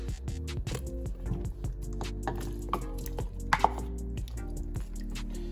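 Onions and tomatoes dropped into a simmering pot of pork spare rib sinigang, a run of soft chopping-like thuds and wet drips over a steady low hum, with a couple of sharper clinks near the middle.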